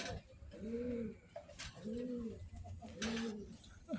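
A pigeon in a double cage coos three times in slow, rolling phrases, close and clear, over faint background noise.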